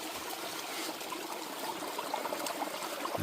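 Water running steadily through a gold prospecting sluice outdoors in North Idaho, a continuous close trickling and splashing wash with no voices.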